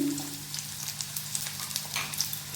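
Chopped onion and green chili dropped into hot oil, crackling and sizzling in a steady, moderately loud spatter with a low hum beneath.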